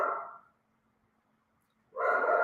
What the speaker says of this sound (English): He heard another dog barking, so here we go.